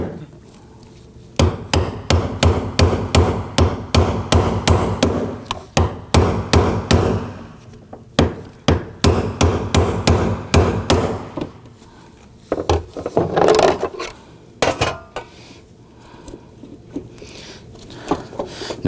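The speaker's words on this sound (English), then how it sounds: "Use a brass punch." A brass punch is struck with a hammer against the fuel pump lock ring tab on a 2018-2024 Toyota Camry, giving loud, sharp metallic blows in quick bursts with short pauses between.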